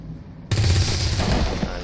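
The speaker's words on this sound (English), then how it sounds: "So it wants me to shoot this guy" A soldier in XCOM 2 shoots an alien. The shooting is a sudden loud burst of rapid automatic fire that cuts in after a quiet moment and keeps rattling close by until the end, with no talking over it.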